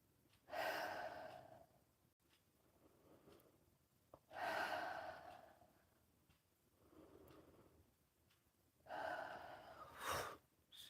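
Deep inhalations drawn in three slow, strong rounds during a guided breathing exercise, each a loud, airy rush close to the mic, separated by softer exhales and quiet pauses.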